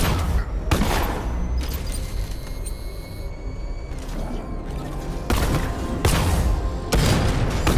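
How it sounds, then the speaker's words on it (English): A missile barrage in Batman Arkham Knight sets off repeated heavy booming explosions in bursts, loud and close, with rumbling blasts spaced across the stretch over a dense game soundscape. "I just wasted that missile barrage."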